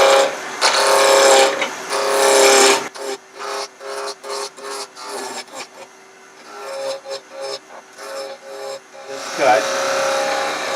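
A wood lathe spins a blank between centers while a gouge rounds it off, giving a loud, rough scraping whir in sustained stretches broken by a run of choppy intermittent cuts, close to the listener.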